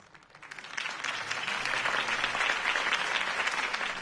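Crowd applause for Harvey Dent's campaign speech in Batman: The Telltale Series, swelling up from quiet in the first second into a broad, sustained roar of clapping that holds steady to the end.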